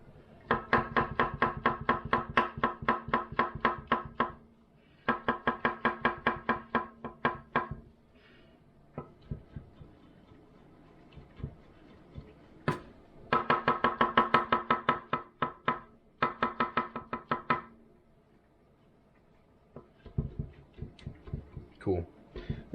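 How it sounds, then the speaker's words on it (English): Vegetables are chopped into chunks for a stir fry, the knife striking the board in fast rhythmic runs of knocks separated by pauses and slower single cuts, close and crisp. "everything's chopped for me"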